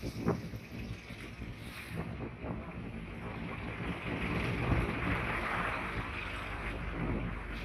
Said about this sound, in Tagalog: Lakas ng hangin guys.